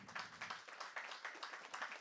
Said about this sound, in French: Mais là, vous applaudissez